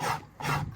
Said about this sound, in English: So just get back on it on the rasp.